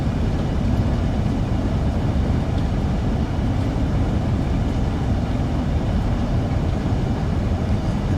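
A Class 395 high-speed train runs in Train Sim World 2 on the Southeastern High Speed Route, heading downhill into a tunnel: a steady, loud rumbling roar with even rolling noise throughout and no voices.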